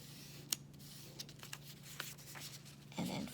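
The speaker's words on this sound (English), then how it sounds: "we start by folding it in half to make a rectangle here" A square sheet of paper is folded and creased by hand, giving quiet scattered rubs and crinkles with a few sharper paper snaps, close and faint.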